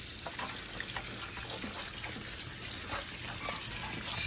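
Water runs steadily from a tap during a monkey's bath, a soft continuous gush with light splashing and small irregular taps, fairly quiet throughout.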